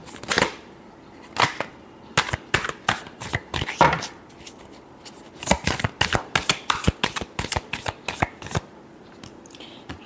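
Tarot cards being shuffled by hand in a long series of crisp riffling bursts, some quick and clustered, others spaced apart, close and clear with no talking.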